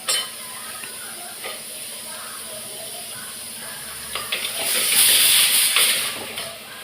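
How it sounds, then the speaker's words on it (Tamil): Water is poured into a cooking pot of drumsticks (moringa pods) for sambar, a rising hissing splash over a quiet kitchen hum, then tapering off. "தண்ணி ஊற்றி வேக வைப்பேன்."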